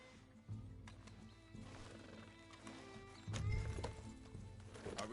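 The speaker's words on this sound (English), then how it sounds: "Get back on the horse." Horse hooves clip-clopping in Red Dead Redemption II, with a whinny mixed in, steady hoofbeats under a game soundtrack, louder near the end.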